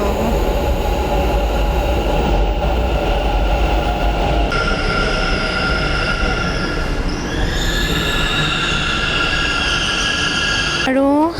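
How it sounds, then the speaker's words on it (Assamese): A metro train passes at a Bangalore metro station, its steady loud rumble joined by high wheel squeals and screeching tones that rise and shift throughout, with a brief sharp squeal near the end. "ওপৰত এয়া মেট্ৰ' ষ্টেচন আৰু এয়া মেট্ৰ'।"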